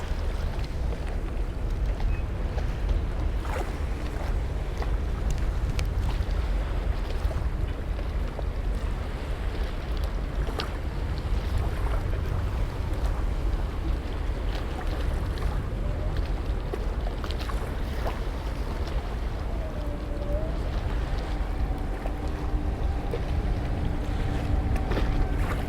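Iguana amphibious boat driving out of the water onto a beach on its tracks, a steady loud engine and water rumble with wind noise running throughout, a faint tonal whine appearing near the end.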